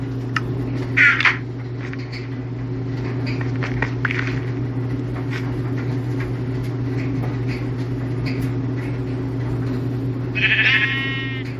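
Sheep in the Minecraft video game bleat in a few short, faint bursts over a steady humming game backdrop, with one clearer bleat near the end.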